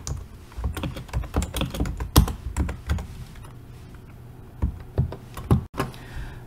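Fingers type code on a computer keyboard in quick, close bursts of key clicks with short pauses between runs, and no talking.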